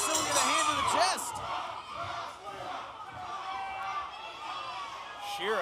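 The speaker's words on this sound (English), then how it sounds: "And this crowd, they're chanting jump." Wrestling crowd at an OVW TV show chanting and cheering, rhythmic shouts rising and falling in the arena, with a commentator talking over the noise throughout.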